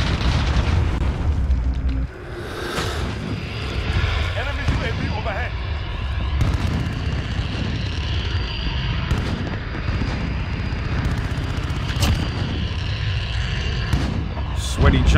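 Rocket explosions and booming gunfire in Modern Warfare gameplay burst repeatedly in dense, loud succession beneath constant excited talking.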